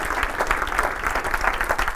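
An audience gives a guest a round of applause, a brief, dense burst of clapping that holds steady throughout.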